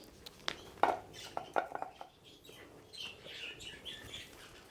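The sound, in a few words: birds chirping near a pet rabbit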